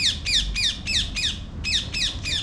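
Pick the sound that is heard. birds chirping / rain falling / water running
birds chirping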